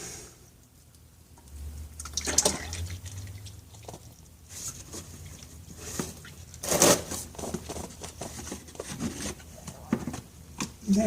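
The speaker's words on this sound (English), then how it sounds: "That oil is draining perfectly." Engine oil draining from a Kubota Grand L 3560 tractor during its 400-hour service, a soft steady liquid patter and trickle with scattered drips and handling noises, close by and without talk.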